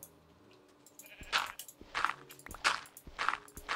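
Sheep in the Minecraft video game bleat several times in short, clipped calls, close and distinct, with faint footstep-like ticks between them and no speech.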